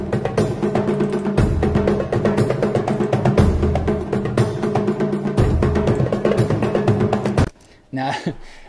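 Big taiko drums pound through an epic orchestral war score, loud sustained booming hits layered over dense instrumentation, cutting off abruptly near the end into a brief quieter tail.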